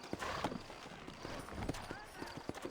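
Horse hooves clip-clopping on a dirt trail in the Red Dead Redemption video game, a steady irregular trotting rhythm mixed with wagon and ambient sounds while characters talk over it.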